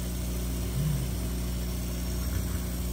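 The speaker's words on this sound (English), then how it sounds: "What it does is it spins the cup around and shows you exactly where the design is going to be framed at" A PiBurn V4 rotary turns a tumbler while a laser engraver frames the design, making a steady low motor hum with a faint whine that swells briefly, and no one speaks.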